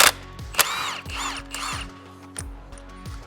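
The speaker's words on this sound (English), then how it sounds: "This nut is reverse thread, so you're gonna go righty to loosen it." A tool works loose the reverse-thread clutch nut on a Milwaukee 8 Road Glide primary, giving close, fast ratcheting clicks and short mechanical whirs in repeated bursts over a low hum.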